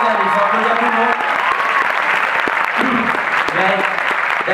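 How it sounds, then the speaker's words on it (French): An audience applauds at a film presentation, loud dense clapping throughout with voices speaking and calling out over it. "il faut applaudir tout le monde, les amis, il faut applaudir tout le monde"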